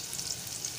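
Onion dropped into hot oil with asafoetida, for a Malvani egg curry, gives a brief, faint, even sizzling hiss close by.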